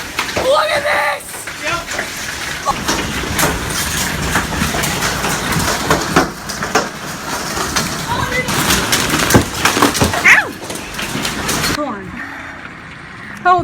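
Hail pounds a house and its gutter in a dense, loud, continuous clatter of impacts that cuts off abruptly near the end, with excited voices talking over the noise.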